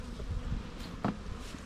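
Honey bees buzz continuously during the installation of a bee package into a hive, a close, dense hum with a few louder passes near the ear.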